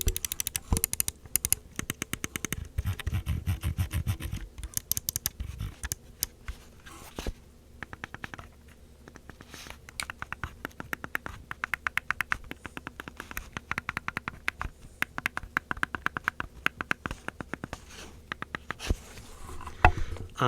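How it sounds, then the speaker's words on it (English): Button clicks from a SteelSeries Aerox 9 gaming mouse with a mesh-covered shell, a quick dense series of sharp ticks and clacks that runs steadily for about twenty seconds, close up and fairly quiet with no talking. "let's do a quick listen to the keys"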